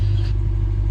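Lexus IS500 fitted with an RR Racing R2 axleback exhaust idling after a cold start, a steady deep low rumble held close and even throughout with no talk.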